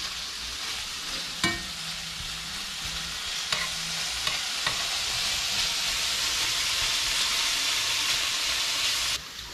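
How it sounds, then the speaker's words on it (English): Shrimp fry in hot oil for shrimp and grits, a steady loud sizzle lasting throughout with a few clinks of a utensil near the start, no talk. "for the shrimp, to fry the shrimp."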